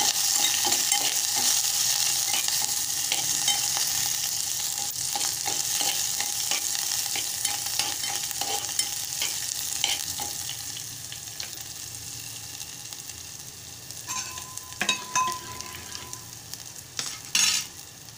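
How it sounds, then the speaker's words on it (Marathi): A mixture for kadhi is stirred in a pan with ginger added, the spoon scraping in steady irregular strokes over a soft sizzle, with a few sharper clinks near the end and no voices. "मिश्रण छान एकजीव करून घ्यायचं।"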